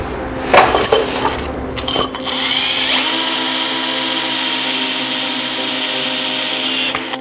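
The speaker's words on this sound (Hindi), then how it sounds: "ड्रिल करेंगे।" An electric drill bores a hole for a brass nozzle in the LPG conversion setup on a Hero Ignitor 125cc motorcycle, giving a steady, loud, continuous whine for several seconds after a few brief clattering knocks at the start.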